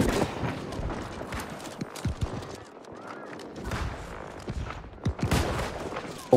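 Scattered musket volleys crackle in the RS War video game, with irregular shots near and far and a busy battle background throughout.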